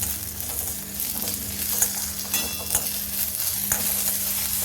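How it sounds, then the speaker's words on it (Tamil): Spices and curry leaves dry-roast in a pan over a low flame for amla rasam, with repeated scraping stirs over a light crackling sizzle and a steady low hum. The stirring sounds are close and continuous, and no one speaks. "லோ ஃப்ளேமில் வறுத்துக்கோங்க."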